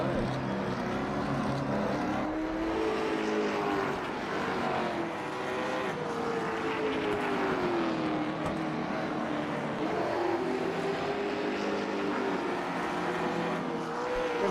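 Late model stock cars racing at South Boston, engines droning loud and continuous with rising and falling pitch as they circle the track, a commentator talking over the noise.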